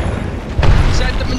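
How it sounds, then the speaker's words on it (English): A grenade goes off in the game Apex Legends as a short, loud, close boom with a low rumbling tail, mixed with dense game sounds. "I stepped right into a grenade."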